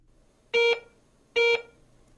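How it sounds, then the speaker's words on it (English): Two short, bright electronic beeps from a Garrett ACE 150 metal detector register a pull tab passing over the search coil, a little under a second apart. "A pull tab."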